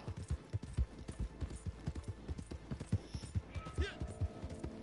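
A horse gallops in Red Dead Redemption 2, its hooves drumming in a quick, even rhythm close by, with a brief snort or whinny near the end.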